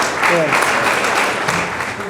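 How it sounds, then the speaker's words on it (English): Audience applauding a middle school baseball team at a baseball media day, a steady dense clapping close by, with some voices mixed into the crowd. "If you would give them guys one more round of applause"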